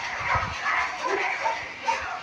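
Several dogs yip and bark in short bursts, fairly close, with a few whimpering notes mixed in.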